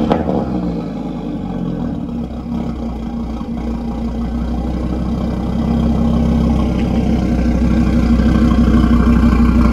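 An Audi RS3, a built car, idles while warming up just after a wash, a steady deep rumble with a slight rise in level toward the end, close and continuous with no talk over it.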